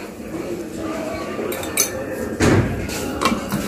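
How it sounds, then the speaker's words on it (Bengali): A metal spoon clinks against a sugar container while scooping sugar in a home kitchen, a few light taps and one sharper knock, with people talking nearby. "চামচ দিয়ে চিনি নাও।"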